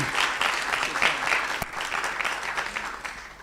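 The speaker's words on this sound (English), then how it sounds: "give him a round of applause." Warm applause from an entrepreneurship conference crowd fills the room, a continuous dense patter of many hands clapping at moderate volume, tapering slightly toward the close.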